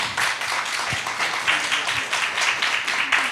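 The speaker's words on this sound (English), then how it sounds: "Let's have a round of applause for them." Board members at an annual meeting and trustees election are greeted by an audience clapping, a steady dense patter of hands filling the room for a few seconds, with faint voices underneath.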